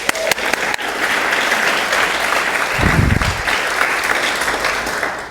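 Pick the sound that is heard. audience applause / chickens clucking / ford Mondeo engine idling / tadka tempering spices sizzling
audience applause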